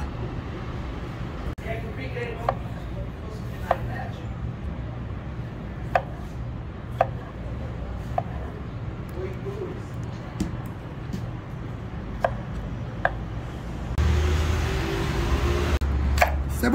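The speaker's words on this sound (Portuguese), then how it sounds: "Nós vamos cortar tudo pequenininho." A knife chopping tomato finely on a cutting board, heard as sharp, evenly spaced taps, close and clear over a low background hum, with a brief rise in noise near the end.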